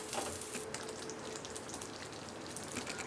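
Paneer butter masala gravy simmers in a pan, giving off a quiet, continuous crackle of small bubbles popping with faint sizzling.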